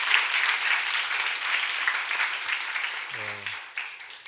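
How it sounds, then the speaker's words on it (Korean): Church youth congregation applauding for high school seniors who just took the national college entrance exam, a sustained even round of clapping from a crowd in a hall, with a short tone sounding briefly near the end. "우리 수능본 고3 친구들 향해서 우리 고생했다고 박수 한번 할까요?"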